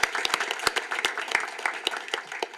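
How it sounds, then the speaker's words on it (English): At a school board meeting, a modest group of people applauds student representatives, with sharp, distinct individual claps standing out over a steady patter of clapping throughout. "So let's give them one more round of applause."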